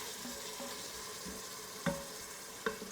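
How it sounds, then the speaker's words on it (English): Pasta salad with olives is stirred and heated in an Instant Pot, a soft continuous sizzle under gentle stirring, with two brief clunks of the spoon against the pot. "Give it a little stir."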